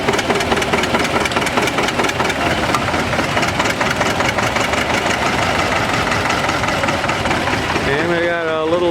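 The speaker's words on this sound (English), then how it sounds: "Had quite a nice looking old R diesel here. He's pulling 4-bottom." An old John Deere R diesel tractor pulling a four-bottom plow at a vintage farm show chugs loudly and steadily at close range, with a voice talking over the engine near the end.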